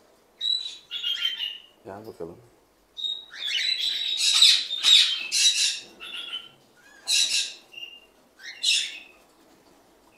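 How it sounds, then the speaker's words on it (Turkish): Cockatiels at a parrot breeding facility in Bursa give bright, shrill squawking calls in repeated bursts, close by, with a brief low voice speaking between them. "Sultan papağanları."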